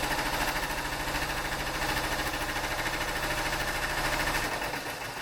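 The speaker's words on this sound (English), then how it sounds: "So it's stitching out the outline for the first one" An embroidery machine stitches out the outline of a baseball design, a steady, continuous rhythmic whirring and rapid needle chatter that holds an even level throughout, close by with no talking.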